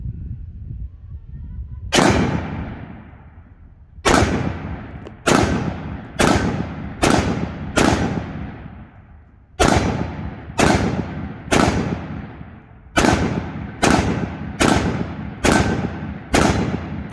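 Thirteen loud Ruger SFAR rifle shots crack out at an outdoor range, some spaced a couple of seconds apart and others in quick pairs, each with a sharp report and a booming decay.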